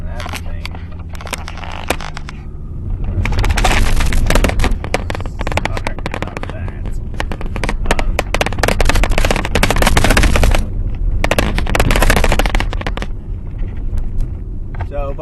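A small GorillaPod-mounted camera rattles hard inside a car accelerating over bumpy roads, with loud, dense bursts of clattering and knocking over a low engine and road rumble, growing heavier after the first few seconds.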